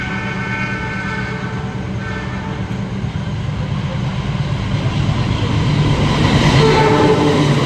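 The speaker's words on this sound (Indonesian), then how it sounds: "Persiapan berjalan langsung kereta api Turangga KA11 dari Surabaya Gubeng menuju ke arah Bandung, menyusul kereta api Kahuripan" The Turangga KA11 passenger train pulls out of Surabaya Gubeng station toward Bandung, giving a loud, steady rumble that swells as it moves off, with a brief horn-like tone near the start and rising wheel noise.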